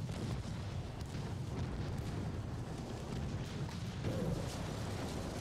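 Torpedo striking a ship in Ultimate Admiral: Dreadnoughts, heard as a heavy, booming explosion rumble that fills the whole stretch with loud low roar and scattered distant blasts, with no voices.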